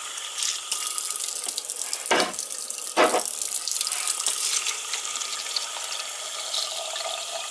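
Filtered water pours steadily into a container of black oil sunflower seeds set to soak, a close continuous stream with a couple of brief splashing surges.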